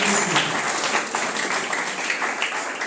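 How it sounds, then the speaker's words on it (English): Hotel management students in a classroom clap together for a boy, a steady burst of applause from a roomful of hands. "Can you clap for this boy"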